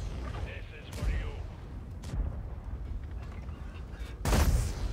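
Tank gun shots in a T-55 video game battle, several sharp booming blasts at irregular intervals, the last one loudest, over a low rumbling engine bed.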